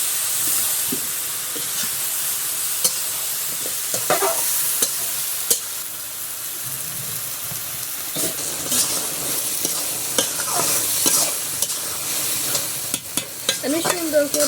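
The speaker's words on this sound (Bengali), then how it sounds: "ভালো করে মিশিয়ে নেব।" Fish and vegetable curry with eggplant gets stirred in a hot pan, spoon scrapes and knocks sounding repeatedly over a continuous sizzle and hiss of steam, with no talking.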